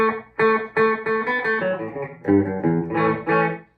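Clean electric guitar notes and chords from a Washburn N24F Nuno Bettencourt guitar ring out one after another, each followed by a quick short slapback delay echo that thickens the sound.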